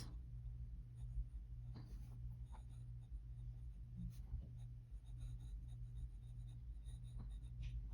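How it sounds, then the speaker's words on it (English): A glass nib pen loaded with Sailor ink scratches across paper, faint continuous scritching strokes with small pauses between letters, alone over a low steady hum. "Okay, maybe I'm gonna do just regular writing."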